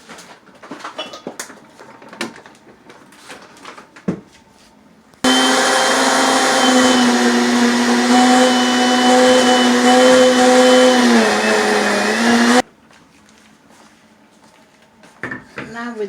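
A blender runs loud and steady for about seven seconds with a droning motor whine, mixing ingredients for coconut jollof rice. Quieter kitchen clatter comes before and after it.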